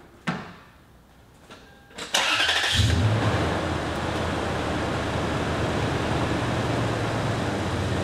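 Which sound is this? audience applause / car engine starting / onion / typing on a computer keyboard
car engine starting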